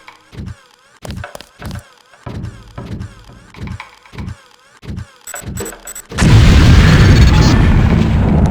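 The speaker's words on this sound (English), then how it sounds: "If you aren't close enough, the LAM will fall to the ground and detonate." A LAM grenade in Deus Ex explodes in a long, loud roaring blast after a series of short, evenly spaced thuds and pops.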